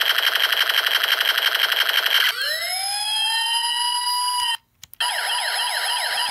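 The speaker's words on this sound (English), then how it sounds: "the press switch turns on the police car siren" A toy electronic circuit kit's sound module makes a rapid electronic rattle like machine-gun fire, then a falling fire-siren wail and, after a brief gap, a fast warbling police siren. Loud and close.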